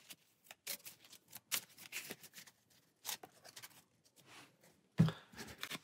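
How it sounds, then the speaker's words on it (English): Shuffling an encounter deck of Arkham Horror card game cards, close and quiet riffling bursts of card flicks in several separate runs, with pauses between and a louder thump near the end. "So finishing up shuffling our encounter deck here."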